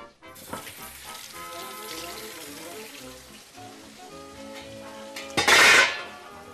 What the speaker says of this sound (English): I'm just going to give these a quick rinse and throw them in the pot